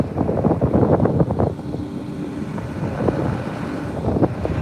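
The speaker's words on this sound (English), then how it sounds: "it's windy today." Strong wind roars and buffets continuously across a farm field during soybean harvest, a loud rumbling gust noise with no voices.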